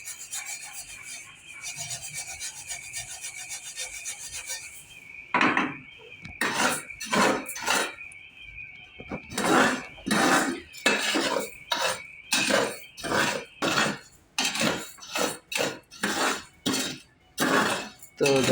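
Rice dry-roasting in a pan is stirred with a metal utensil, giving a steady run of close, rhythmic scraping strokes with a rasping, gritty edge, preceded by a quieter stretch with a faint steady hum.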